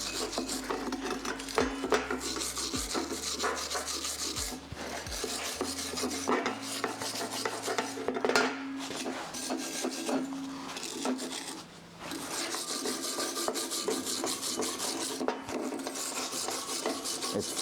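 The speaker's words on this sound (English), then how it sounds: "I'm gonna brush that a little bit, just clean our welds from the residue." Brush scrubbing residue off fresh, still-hot welds on metal brackets, repeated rasping strokes in irregular bursts with short pauses, close and fairly quiet.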